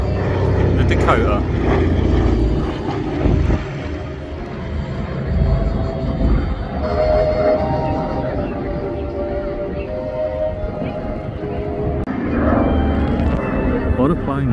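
A Dakota propeller aircraft drones past at an airshow, its engine hum rising and falling steadily over several seconds, loud and continuous.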